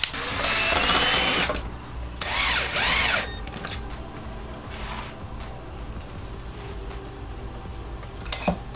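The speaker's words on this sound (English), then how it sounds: "Anytime you screw into ABS, make sure you drill a hole first" A power drill whines loudly as it bores a hole into ABS plastic, running in two bursts with a brief pause between, followed by quieter handling noise and a small clatter.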